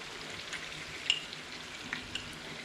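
Thin fish fillets for tacos fry in a pan with a quiet, even sizzle and a couple of faint ticks or pops.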